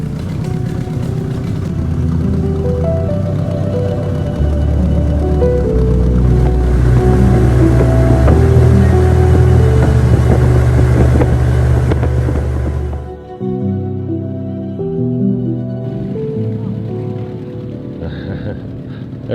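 A two-stroke boat engine runs loud and close on a Thai fishing trip, a buzzing, harmonic drone that rises and holds for about thirteen seconds, then drops abruptly to a lower, uneven idle.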